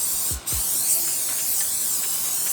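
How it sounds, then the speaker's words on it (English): A steady hiss of cooking spray sprayed into a pan runs for a couple of seconds, close up, after a couple of quick clunks at the start. "spray some cooking spray in here like this"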